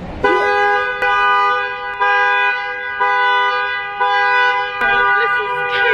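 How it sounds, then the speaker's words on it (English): A tow truck's horn honks in a series of loud, sustained toots, about five blasts in a row, sounding close by. "That's the tow truck. Oh God, there's the tow truck."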